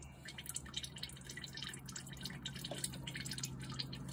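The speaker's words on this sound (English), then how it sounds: "we're gonna wait for the coolant to come out" Coolant drips and trickles from a frost plug hole in a cracked 4.3L engine block, faint and close with irregular small drips over quiet background noise.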